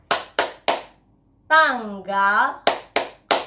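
Children in a classroom activity clap three sharp beats, a voice speaks, then three more hand claps follow, close and crisp.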